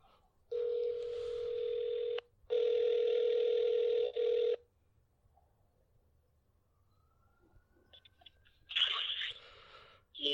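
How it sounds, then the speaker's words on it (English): Steady telephone dial tone heard alone through a handset, running in two long stretches with a brief gap, then quiet line noise and a faint chirp before a call connects. "I'm calling him right now."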